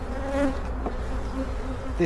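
Dense, continuous buzzing of many honeybees close by at a hive preparing to swarm, a steady humming drone that swells and wavers as individual bees pass near.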